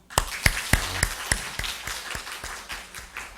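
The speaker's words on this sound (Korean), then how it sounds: "다시 한번 박수" Clapping from a church congregation at a Korean youth retreat service, a dozen or so sharp, distinct claps in a loose rhythm that gradually thins and softens toward the end.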